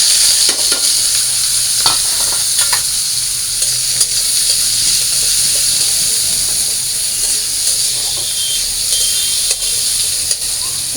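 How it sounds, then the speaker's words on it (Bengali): Onion and green chillies hit hot oil in a wok and fry with a loud, steady sizzle, broken by occasional scrapes and clinks of stirring, with no talking. "এবারে যে পেঁয়াজ কাঁচামরিচ দিয়ে দিই।"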